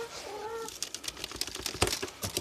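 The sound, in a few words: chickens clucking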